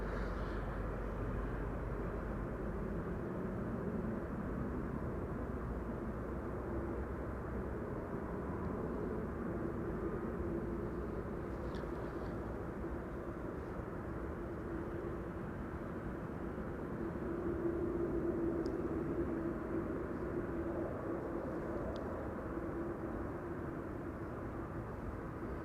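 Boeing 747 jet taxiing at Amsterdam Schiphol Airport, turning at the end of the runway, a steady low engine rumble and whine heard at a distance that holds constant throughout with slight swells.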